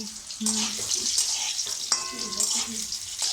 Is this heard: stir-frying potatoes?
yes